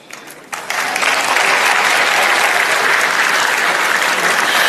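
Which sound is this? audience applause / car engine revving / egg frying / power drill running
audience applause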